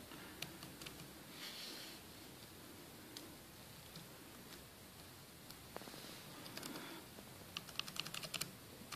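Keys clatter on a Logitech Bluetooth keyboard in quick, uneven bursts of light taps, close and fairly quiet, with small clusters of keystrokes growing busier toward the end and no voices.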